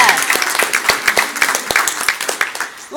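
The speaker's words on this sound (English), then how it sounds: "How about a big round of applause for Bonnie," A circus audience breaks into a round of applause, dense irregular clapping from many hands continuing steadily, with voices mixed faintly underneath.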